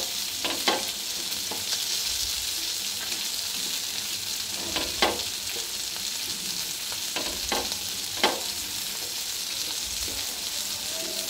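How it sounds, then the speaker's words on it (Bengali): Dried red chillies frying on a large flat pan, a continuous loud hiss and sizzle with occasional stirring scrapes and taps throughout. "মরিচগুলোকে একটু ভাজা করে নিচ্ছি"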